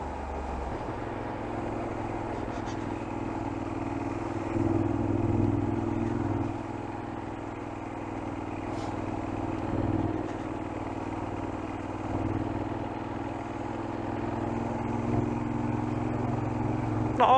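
Motorcycle engines rumble steadily, rising and falling as bikes pass at moderate distance over a constant low drone of traffic.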